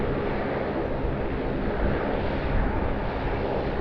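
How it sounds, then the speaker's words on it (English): At Sydney Airport a Jetstar Airbus A320 and a Qantas Boeing 737-800 are on the runway, their engines making a continuous dense roar with no breaks, heard at a moderate distance. "Qantas 737 800 just waiting for the Jetstar A320 to vacate."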